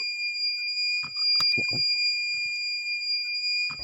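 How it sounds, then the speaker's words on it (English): A car's seat belt warning sounds a steady, high-pitched electronic tone continuously, with a few faint clicks and knocks underneath. "the system would detect the fault and continue the beeping"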